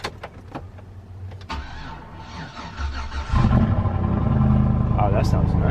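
A 2005 Chevrolet Silverado 1500 engine is started: a few short clicks and brief cranking, then the engine catches and settles into a loud, steady idle rumble. A voice speaks briefly over the cranking.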